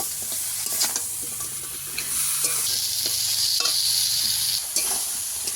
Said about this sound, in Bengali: আবারও সব কিছু ভালো করে কষিয়ে নেব।